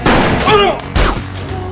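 A sniper rifle fires in a movie scene, giving a loud, harsh gunshot blast followed by a second heavy crack about a second later, with a rumbling noisy tail and voice-like tones mixed in.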